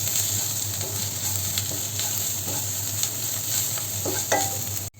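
Crushed chili and pepper sizzle steadily while frying in a pan for a brinjal masala, with scattered scraping clicks of a spoon stirring throughout, close and continuous.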